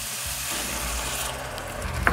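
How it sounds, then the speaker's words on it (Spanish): Coriander frying in oil in a pot for Peruvian seco de carne de res, a continuous gentle sizzle with faint rubbing and stirring noises and a small tap near the end. "Vamos a freír hasta que el culantro se separe del aceite."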